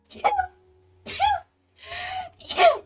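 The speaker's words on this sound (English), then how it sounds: "I did not mean to sneeze so much" Several sneezes in quick succession, loud and close, four sharp bursts separated by brief pauses.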